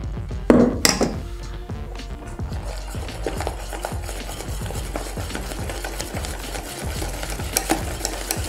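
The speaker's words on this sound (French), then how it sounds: "Je verse un tiers de la meringue dans la pâte chocolatée et je vais mélanger énergiquement pour bien détendre la pâte." A third of the meringue is mixed vigorously into chocolate soufflé batter with a whisk, a near, rapid rhythmic scraping and slapping in the bowl, steady for several seconds after a couple of sharp opening knocks.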